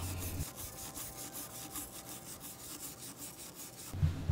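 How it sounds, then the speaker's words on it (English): A wire brush scrubs a saw blade during cleaning, a rapid run of rhythmic rasping strokes close up, fairly quiet and steady for about four seconds before a couple of louder knocks. "you take the wire brush and start scrubbing on it"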